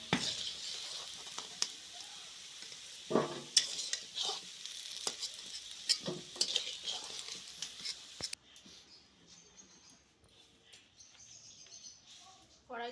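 Potatoes fried until reddish in a wok, with a faint sizzle and intermittent clinks of a spatula stirring, fairly quiet, birds chirping in the background.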